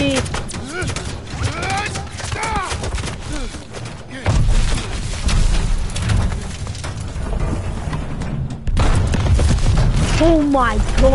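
Machine gun fire rattles in dense bursts through a Call of Duty Vanguard battle, loud and close, mixed with other combat noise and voices.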